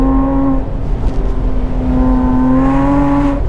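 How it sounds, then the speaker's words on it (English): A Porsche Boxster fitted with GT3 RS suspension revs on track, heard from inside the car as a loud, close, steady engine drone that holds a high pitch and climbs slightly before easing off near the end. "this thing revs so nice"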